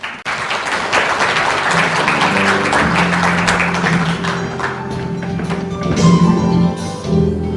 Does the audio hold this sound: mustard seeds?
no